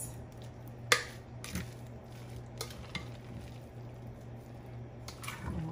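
A big spoon stirring crab meat salad in a bowl, a soft continuous wet mixing sound with a few sharper clinks of spoon against the bowl, close by and without talk.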